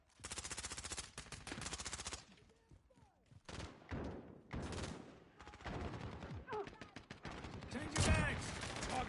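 Bursts of automatic gunfire in a Modern Warfare match, long rapid rattling volleys broken by short pauses and single shots, loud and close, with occasional voices underneath.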